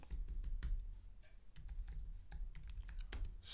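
A computer keyboard is typed on at a command line, with quick, irregular key clicks heard close and clear, with no talking.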